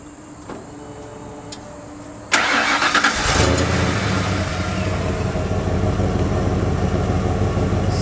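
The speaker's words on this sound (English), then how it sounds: "So I'll start it up for you guys here." A 1995 Ford F-150 pickup with stock exhaust is started by remote start: a few faint clicks, then the engine cranks and catches, settling into a steady, close, rumbling idle.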